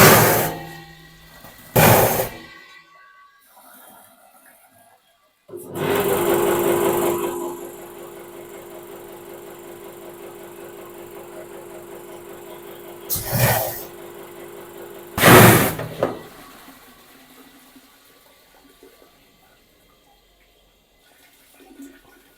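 A DPF cleaning machine flushes water through a diesel particulate filter, a steady rushing, hissing flow that starts loudly after a pause and runs on, broken by a few sharp bursts before fading.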